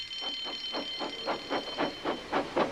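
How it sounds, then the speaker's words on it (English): A cartoon steam engine chuffs along the railway, hurrying as the breakdown train, with a steady rhythm of loud puffs that speed up slightly, over a constant high whistle-like tone. "The breakdown train! Quickly!"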